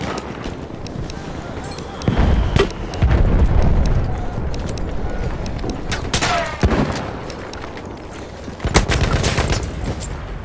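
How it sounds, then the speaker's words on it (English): Rapid machine-gun bursts and scattered gunshots crack through a Battlefield 1 battle, loud and close, with booming impacts and repeated sharp reports over a constant rumble while voices call out. "Enemy machine gun over there!"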